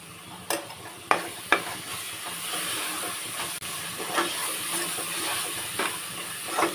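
Ginger paste sautéing in hot oil in a pot for Ambur-style chicken biryani gives a steady close sizzling hiss. A few sharp spoon scrapes and clicks break through it, and there is no talking.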